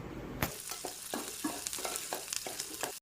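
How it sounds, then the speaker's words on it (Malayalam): Onion with ginger-garlic paste sautés in a pan while being stirred, a soft continuous sizzle punctuated by regular scraping strokes of the spoon, close up and quiet, without speech. "ആദ്യം ഉള്ളി ചെറുതായി കുനുകുനായിരുന്ന ഉള്ളി നന്നായിട്ട് വഴറ്റിന് ശേഷം അതിലേക്ക് ഇഞ്ചി വെളുത്തുള്ളി പേസ്റ്റ് ആയിട്ട് നന്നായിട്ട് ഇളക്കുന്നു."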